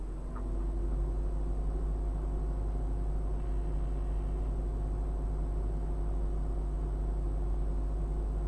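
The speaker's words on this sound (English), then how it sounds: "It's kicking on the fans and a bunch of other stuff because it doesn't know what to do." Car cooling fans run on a Volkswagen MK6 during an ECU flash. The whir is a steady, loud, even drone with a low hum that stays constant throughout, and no one speaks.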